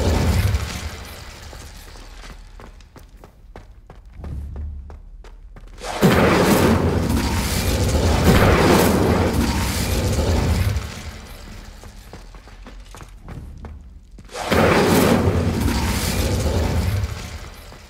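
A fire spell igniting braziers in the Hogwarts Legacy video game, with loud, full whooshing bursts of flame flaring up in two strong surges separated by quieter ambient rumble.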